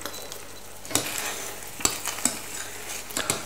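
Chicken fricassee in vin jaune cooks in a pan, giving a steady soft sizzle with a few sharp clinks and scrapes of stirring spaced through it, close and moderately loud, with no talking.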